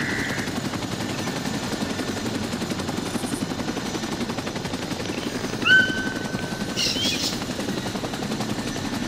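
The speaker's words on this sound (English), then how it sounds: "they might be attracted by the dust and helicopter" A helicopter's rotor chops in a steady, continuous rhythmic beat throughout, loud and close, with a couple of faint brief tones over it.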